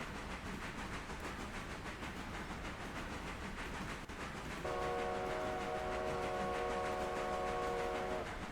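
A freight train's horn sounds in a long steady multi-tone blast as the train runs at about 30 mph through a station, rising over the continuous rumble and clatter of the moving train.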